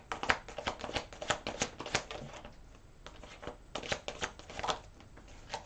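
Tarot cards riffled and shuffled by hand at close range, a rapid run of crisp flicking and slapping bursts with brief pauses, no voices.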